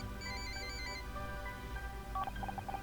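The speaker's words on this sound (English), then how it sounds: "Very convenient when that phone rings." A telephone rings in Murder by Numbers, a steady electronic ringtone with repeating bursts that turn into quick chirping pulses near the end, heard alone over a background music bed.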